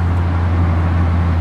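Street traffic with cars driving by, a steady low rumbling engine hum and road noise, continuous and moderately loud with no talking.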